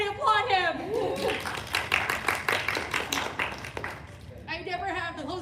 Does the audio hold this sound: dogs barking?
no